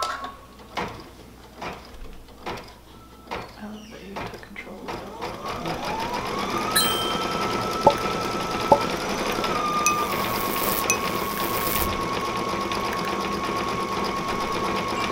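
A Baby Lock Destiny II embroidery machine stitching a design on jeans: a few rhythmic mechanical clicks, then a steady, fast needle chatter with small ratcheting ticks, close and fairly quiet, and faint voices now and then.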